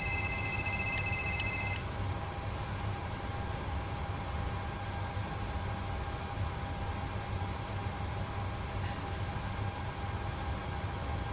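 A mobile phone rings in a room during a home flight-simulator session, a short loud electronic ringtone lasting under two seconds before cutting off, leaving a steady hum and faint background noise.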